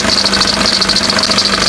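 An idling car engine hums steadily at close range while a faulty alternator pulley adds a continuous high, pulsing squeal on top. No one speaks.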